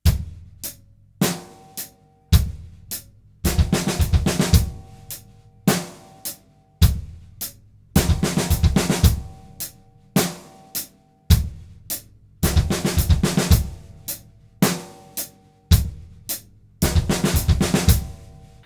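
A drumset plays slow roll figures that begin with the left hand and bass drum, doubles between hands landing in repeating groups of sharp hits with cymbal and snare, loud and close with no talking.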